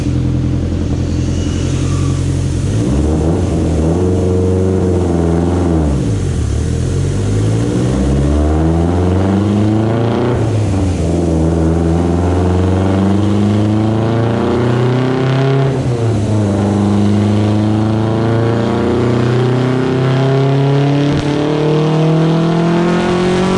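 A Mitsubishi Evo X fitted with a Garrett G42-1200c sidewinder turbo, running 42 psi of boost a bit rich, revs hard through repeated loud, rising engine pulls, each climb dropping back before building again, close and continuous with no talking.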